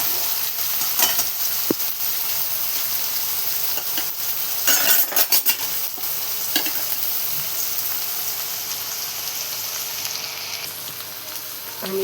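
Methi bhaji with onion and tomato sautéing in a pan, a steady soft sizzle broken by scraping stirs and a brief cluster of louder spatula strokes partway through, close and with no voices.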